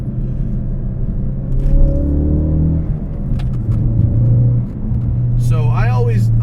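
A manual car rumbles as the driver downshifts to second with heel-and-toe, giving a brief blip of engine revs under a steady low drone, and a voice talks over it.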